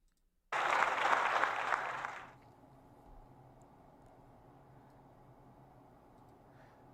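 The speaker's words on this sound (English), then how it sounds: "the only way he'll get people to cheer for him is a fake applause" A burst of canned applause from a sound effect plays on a livestream, loud and dense for under two seconds, then cuts to a low background hum.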